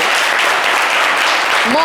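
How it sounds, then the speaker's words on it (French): An audience applauds a performer with dense, steady clapping that fills the whole moment, loud and close, while a voice speaks briefly near the end. "Applaudissez pour lui"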